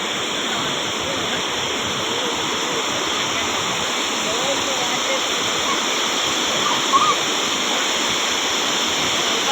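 A waterfall at a village dam in Harkul Khurd in the Konkan countryside gives off a steady, even rushing roar that fills the whole stretch without pause.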